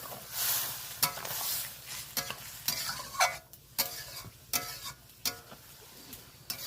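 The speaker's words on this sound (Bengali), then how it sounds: "খুব ভালো করে কষিয়ে নেব সবজি যত কষাবে তত সবজির যত রসটা শুকিয়ে যাবে" Vegetables, including drumstick flowers, being stirred and dry-fried in a pan at home: repeated scraping stir strokes at an uneven rhythm over a soft, steady sizzle, close and fairly quiet, with no talking.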